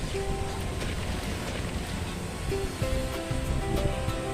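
Dense rushing water and churning waves from a whirlpool in the video game NTE, a loud continuous wash with faint tonal game sounds layered over it.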